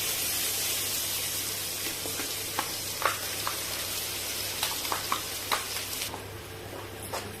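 Masala spices fry in a pan for chicken curry with a steady sizzle, broken by scattered pops and crackles and a few scraping stirs, close and fairly loud with no talking.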